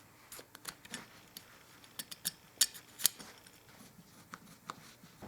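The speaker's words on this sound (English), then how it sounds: "Oil the hinge rod and then install the 3 keys." Small metal flute keys being fitted onto a flute foot joint's hinge rod, giving a series of sharp, light clicks and ticks at an irregular pace, close by and crisp against a quiet background.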